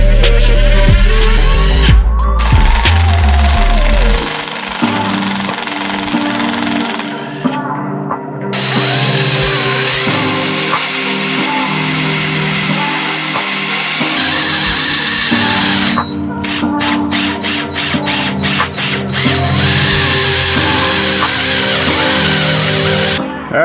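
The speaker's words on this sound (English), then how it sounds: "So we're gonna drill right in the center of this boss here" A power drill bores into a boss on the engine block of a 3.4 swapped Toyota pickup, a steady loud motor whine running throughout with brief pauses and a burst of rapid stuttering near the end.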